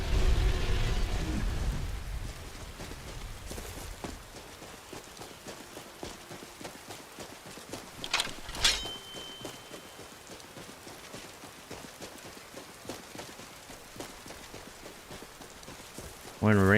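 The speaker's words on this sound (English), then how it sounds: "We're in a rainstorm, dude." Steady rainstorm hiss in a Skyrim game world, broad and constant with a brief louder burst midway, a rumble and footsteps beneath, a voice talking over it.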